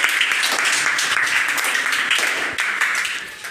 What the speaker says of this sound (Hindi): तालियों के साथ स्वागत करें